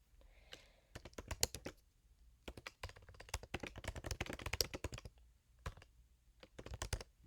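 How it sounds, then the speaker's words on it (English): Fingers type on a computer keyboard in quick, uneven bursts of close, crisp key clicks, with short pauses between the runs. "Type my title in."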